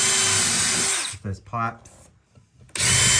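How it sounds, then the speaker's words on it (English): A power drill bores pilot holes in a loose floorboard: a loud, steady whirring run that stops abruptly, followed by someone talking briefly in a quiet room before the drilling starts again. "So if we take this, I'm not going to drill all the way through."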